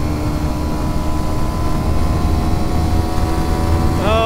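Kawasaki Ninja 125 motorcycle launching and accelerating, a loud steady engine drone with a rising pitch sweep near the end as it revs up, heard close.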